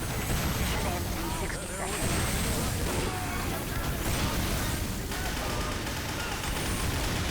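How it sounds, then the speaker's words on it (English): Rocket explosions rain down from an airstrike in Team Fortress 2 Classic, a dense, continuous barrage of bursts and booms filling the scene at loud level with battle noise throughout. "I love seeing those rockets just fall down."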